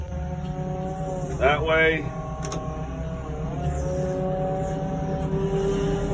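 A Cat telehandler forklift engine runs with a steady hum while the machine drives and steers, and a short whine rises and falls as it turns. Someone talks over the engine throughout.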